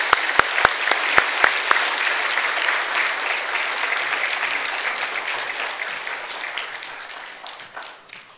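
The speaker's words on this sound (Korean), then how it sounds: "우리 이분들에게 큰 박수로 다시 한번 축하하도록 하겠습니다" A church congregation applauds scholarship recipients during a Sunday service, a few sharp, close claps opening into steady, dense applause that gradually thins and fades over several seconds.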